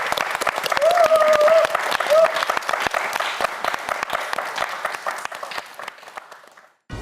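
Studio audience applauding four student contestants on a televised quiz show, with sustained clapping and a short tonal cue early on, gradually thinning and dropping away just before the end.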